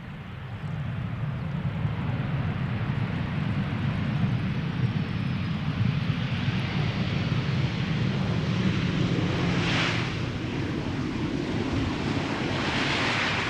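A Boeing 737-800, 23 years old, arrives at Amsterdam Schiphol Airport, its broad jet roar steady and fairly loud throughout, with heavy wind rumble on the microphone and a brief rising whine near the end.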